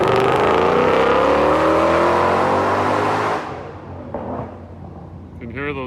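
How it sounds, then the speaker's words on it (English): A 2020 GT500 in track mode roars loudly on a racetrack, its engine pitch climbing steadily before dropping off abruptly, followed by brief engine blips from downshifts. "Can hear those downshifts."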